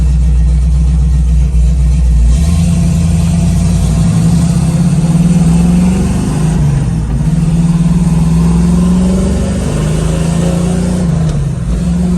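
A 1969 Camaro fitted with a T56 manual gearbox and new gears drives on a road test, its engine droning loud and close inside the car, revs climbing and shifting with a dip between gears.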